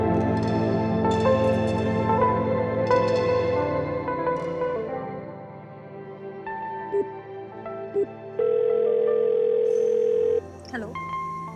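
An outgoing phone call goes unanswered, a repeating electronic ringback of steady, music-like tones that plays on without pause and shifts in pitch toward the end.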